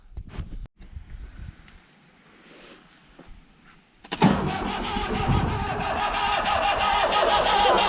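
A Massey Ferguson backhoe that hasn't run in 15 years, first cranking in uneven bursts with quieter gaps, then catching and settling into a loud, steady diesel engine run close by.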